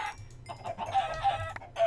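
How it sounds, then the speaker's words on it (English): Chickens in the Minecraft video game cluck repeatedly in short, close, fairly loud bursts that run through the whole moment, with no one speaking. "Hello, chickens. Meet your doom."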